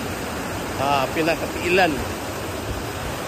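A creek on the Mount Colango trail flows steadily as a broad wash of water noise, with a few words spoken over it.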